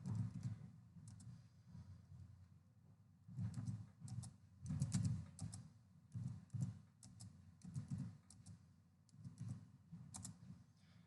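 Values being typed on a computer keyboard for a VB arrays program: soft, irregular key taps in clusters, faint and close, over a low hum.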